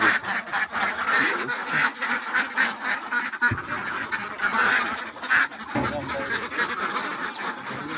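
Ducks quack in a busy, overlapping chorus, steady and nearby, with a couple of sharp knocks partway through.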